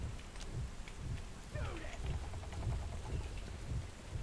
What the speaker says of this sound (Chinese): 室内下雨喽，